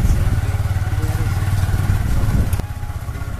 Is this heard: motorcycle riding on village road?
yes